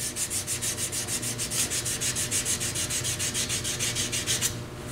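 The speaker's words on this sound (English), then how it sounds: "sanding with the grain" Wood being hand sanded with the grain on a lathe with the motor off, using 220 grit sandpaper. Close, rhythmic back-and-forth scratchy strokes repeat at a steady pace, with no talk, and stop just before the end.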